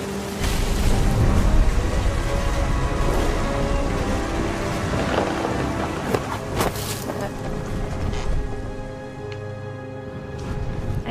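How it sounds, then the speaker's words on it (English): Steady rain hisses through a thunderstorm in the video game What Remains of Edith Finch, loud and dense, with a few sharp thunder cracks and rumbles rising out of the downpour. "The thunder sounded much too close and full of angry power."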